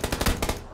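Gunshots in PUBG come as a quick, loud run of close, sharp cracks in a steady rapid rhythm, with no talking.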